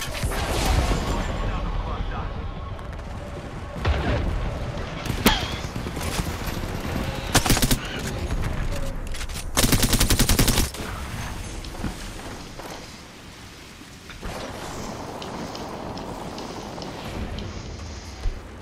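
Bursts of gunfire from the Apex Legends battle royale game, several loud volleys and rapid sprays spread across the stretch, with steady game noise and footsteps between them.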